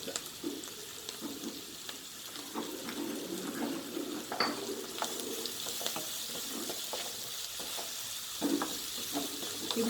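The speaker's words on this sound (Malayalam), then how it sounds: "ക്യാപ്സിക്കത്തിൻ്റെ പകുതി ഇട്ട് ഒന്ന് വഴറ്റാം" Capsicum and onion sautéing in a pan for chilli chicken, giving a steady low sizzle with occasional stirring scrapes and clinks throughout, no voices.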